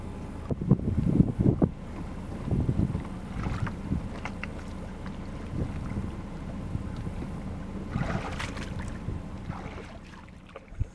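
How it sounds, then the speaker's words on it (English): Oars dip and pull as a DIY wooden Sharpie skiff is rowed on the Cumberland River, with soft, irregular splashes and creaks over a quiet wash of wind and water. "I'm just going to be rowing today."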